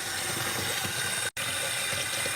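Water running from a tap into a container in a sink, a steady close rushing splash broken by a very short gap.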